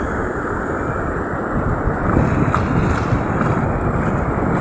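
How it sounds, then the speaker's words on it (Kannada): Arabian Sea waves roll onto the shore in a steady, loud roar of surf, mixed with strong wind buffeting the microphone, and no voices are heard. "ಈ ತೆರೆ ಇದು ಸೌಂಡಿಗೆ ಆದಷ್ಟು ಗಟ್ಟಿ ಮಾತಾಡ್ತಿದ್ದೇವೆ"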